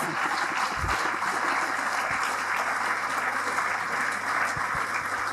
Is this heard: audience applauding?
yes